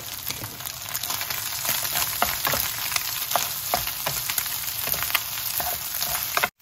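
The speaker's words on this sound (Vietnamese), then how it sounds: "chiên trước hai cái trứng nè, bầm cho nó nhuyễn ra hết mọi người" Eggs frying in a hot pan and being stirred and broken up for fried rice, a steady close sizzle with scraping strokes of the utensil, no talking.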